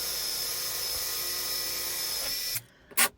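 A power drill whines steadily with a high-pitched grinding as it bores through wooden boat planking, stops abruptly, then gives one brief final burst.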